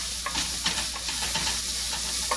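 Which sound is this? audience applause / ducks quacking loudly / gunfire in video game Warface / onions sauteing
onions sauteing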